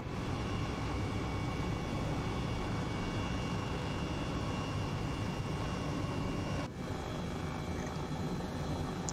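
A helicopter flies in Flight Simulator 2020, its engine and rotors making a loud, steady drone with one brief dip partway through and no talking.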